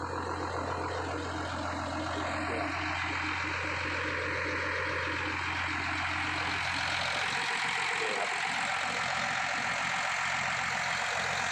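A heavy diesel engine of a Sany SY205C excavator with 7,000 hours idles steadily nearby, a constant low rumble with a smooth, unbroken drone throughout.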